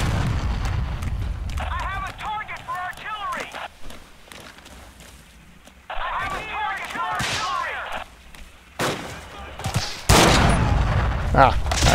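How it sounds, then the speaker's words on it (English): Gunfire in Forgotten Hope 2, a World War II shooter set in the Hurtgen Forest: sharp loud shots and bursts crack repeatedly between spells of talk, with booming impacts near the end. "But they're shooting me."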